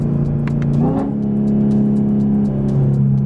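A 2018 Chevrolet Camaro ZL1 accelerates hard from inside the car, its engine rising in pitch through a strong, continuous pull, loud and close with no talk.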